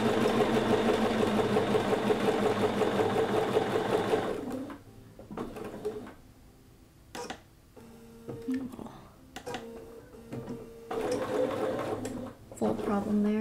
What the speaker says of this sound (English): And hopefully my sewing machine's not too loud. It probably needs to be oiled.